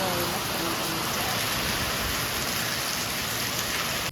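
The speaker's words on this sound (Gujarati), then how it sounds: "હા, બહુ વરસાદ છે." Heavy village rain pours down steadily, a loud, dense, unbroken hiss of drops hitting surfaces close by, with no pauses.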